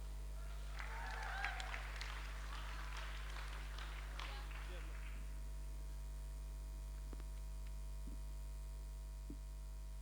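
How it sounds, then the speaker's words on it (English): An audience at a school summit closing ceremony claps in a brief burst of applause that fades after a few seconds, leaving a steady mains hum and a few faint knocks. "So we can please all give him a round of applause."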